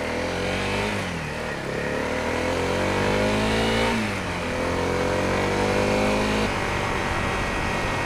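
A Honda CRF250L dual-sport motorcycle rides along, its single-cylinder engine revving up and easing off through gear changes, loud and continuous close by, with wind noise throughout.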